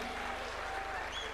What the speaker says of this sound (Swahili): Tuwapige makofi